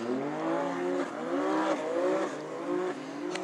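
A Sea-Doo jet ski with a turbocharged 1200 engine revs hard and holds a high, buzzing pitch. It surges and dips in short waves, loud and close, with no voices.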